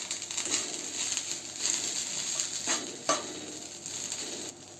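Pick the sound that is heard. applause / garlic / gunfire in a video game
garlic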